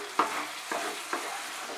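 Mourola fish bati chochchori is stirred in a pan, three distinct scraping strokes over a steady low sizzle, close and moderately loud with no talking.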